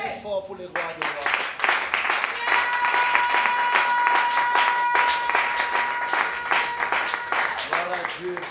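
A church congregation applauds loudly and steadily for about eight seconds, with voices and a sustained tone mixed into the clapping.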